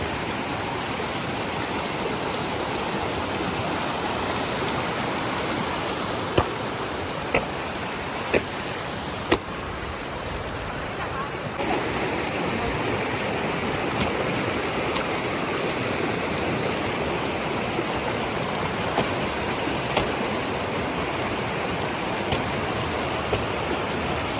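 Icy river water rushes against a rock in the middle of the stream, a constant close roar and splash that runs on steadily, with a few faint clicks along the way.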